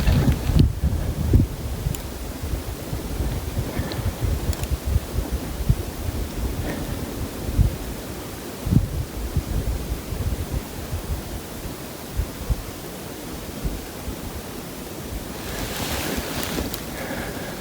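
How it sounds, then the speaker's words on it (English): Wind blowing outdoors during a muzzleloader deer hunt, a steady rushing gust with microphone buffeting and occasional rustles and knocks, no voices. "the wind's blowing the wrong way"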